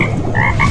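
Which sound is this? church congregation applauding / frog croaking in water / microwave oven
frog croaking in water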